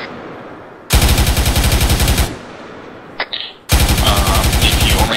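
Long bursts of suppressing machine gun fire in the military game ARMA 3, loud, close rapid rattles with a short gap and a couple of softer shots in between, then another sustained burst.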